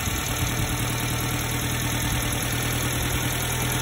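A Subaru Sambar's small engine idles steadily at close range while its ignition timing is advanced at the distributor, a constant low mechanical drone with no speech.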